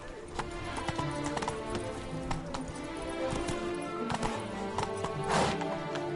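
Roach, a horse in The Witcher 3: Blood and Wine, trots with rhythmic clip-clopping hooves, steady and close, with a brief snort and faint background game sounds.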